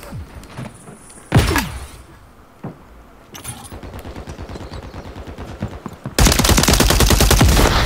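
Gunfire in Call of Duty Modern Warfare 3 multiplayer: scattered single shots and clanks give way to rapid automatic bursts, and a loud sustained volley closes the stretch.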